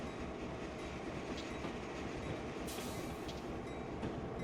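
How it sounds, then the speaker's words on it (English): Train rolling past in Train Simulator 2014 on the Stevens Pass route, a steady rumbling with rhythmic wheel clatter and brief squeals, continuous and fairly quiet with no talk. "Looks like we have a train up ahead,"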